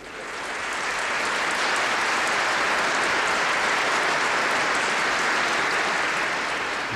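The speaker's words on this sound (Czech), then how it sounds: "doprovodíme potleskem" Sustained audience applause at an award ceremony, broad and even clapping from a large crowd that swells in and holds steady without any talk.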